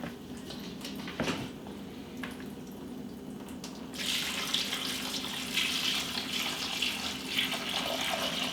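Water runs steadily from a kitchen tap left on during a freeze advisory, a constant close hiss and splash. Partway through it grows brighter and louder, with faint drips and clinks over the flow.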